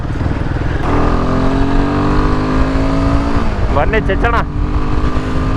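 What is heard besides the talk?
Royal Enfield Himalayan 450 single-cylinder motorcycle engine while riding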